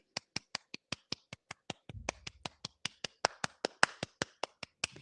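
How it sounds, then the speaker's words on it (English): Sharp, evenly spaced hand claps, around twenty of them in a steady rhythm, close and crisp, with a short low thump partway through. "Clap for the baby."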